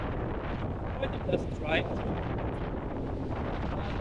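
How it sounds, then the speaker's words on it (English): Wind buffets the microphone with a steady low rumble near a beach, while a person speaks briefly over the blustery noise. "I would appreciate it if there wasn't too much wind"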